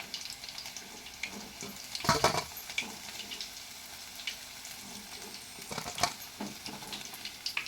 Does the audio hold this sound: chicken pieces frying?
yes